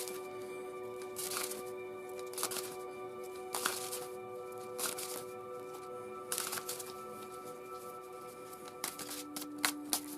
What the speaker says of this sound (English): Last minute shuffle.